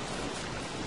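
Steady rain falling in the game Don't Starve Together, a dense, even hiss of drops spread across the whole second with no talk over it.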